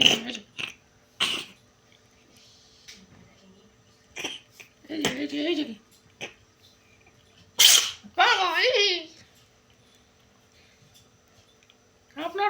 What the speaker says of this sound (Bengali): কখন দেখেছেন বিড়াল হেঁচু হেঁচু দিচ্ছে